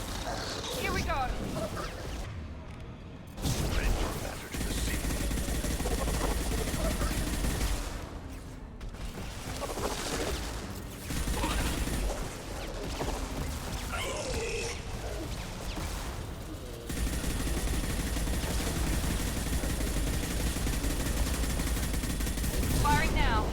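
Dense gunfire from Mass Effect 2, rapid bursts of shots and impacts with mechanical clatter running nearly continuously, with a couple of brief pauses, while a voice talks over the action.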